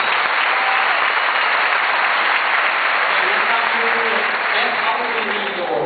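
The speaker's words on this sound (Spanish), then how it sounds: "Big applause for you." A meeting audience applauds first-time attendees in Colombia with steady, dense clapping that stays loud throughout, a few faint voices mixed in underneath.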